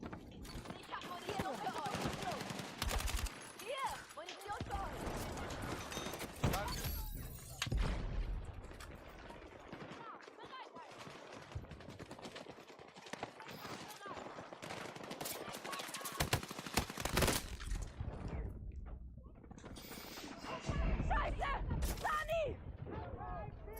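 Bursts of automatic gunfire and explosive blasts crackle through a Battlefield 6 street assault, loud and continuous with dense volleys, while players talk over the combat.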